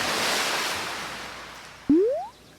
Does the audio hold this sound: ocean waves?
yes